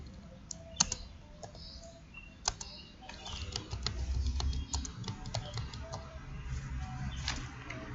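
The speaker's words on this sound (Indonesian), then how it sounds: "Nama kelas kita ketikkan" Keys clicking as a class name is typed on a computer keyboard, with scattered sharp taps over a low room rumble, moderately close and fairly quiet.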